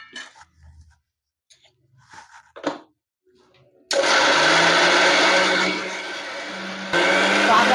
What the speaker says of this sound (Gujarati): તો હવે આપણે પીસી લેશું આ મિક્સર જાળ છે એમાં આપણે આ નાખશું પાલક